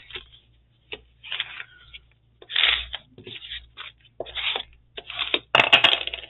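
Paper is folded by hand to make a zine, with a series of crisp crinkles and sharp creasing swipes in short separate bursts, close and fairly loud against silence. No one talks.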